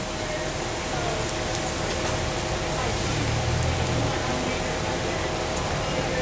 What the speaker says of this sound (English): that rain's starting to come down